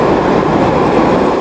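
Heaters shaped like blowtorches roar loud and close while melting gelatin, a continuous, dense, rushing hiss with no pauses.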